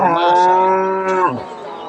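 A cow at a rural cattle market lets out one long, loud, close moo that holds steady before trailing off, with no talk over it.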